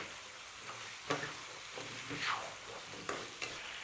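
Chicken pieces with livers and gizzards stir-fried in a wok with soy sauce and oyster sauce, a soft continuous sizzle broken by several stirring scrapes and knocks, close but fairly quiet, no talking.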